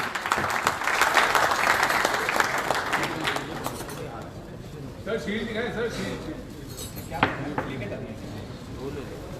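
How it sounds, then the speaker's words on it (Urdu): Crowd at a Karachi Ghazis team dinner breaks into loud applause for the team captain, dense clapping that fades after a few seconds into murmuring chatter and people talking, with a few isolated claps. "تو پرزور تالیاں بجائے کیپٹن آف کراچی غازی محترم جناب صاحب زادہ فرحان."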